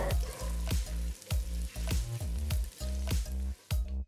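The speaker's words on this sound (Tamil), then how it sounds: "அடுத்து இதில் ஒரு வெங்காயம் மெலிசா நறுக்குனது சேர்த்து நல்லா வதக்குங்க" Thinly sliced onion sizzles steadily in a hot pan, with regular clacks and scrapes of stirring over the constant frying hiss.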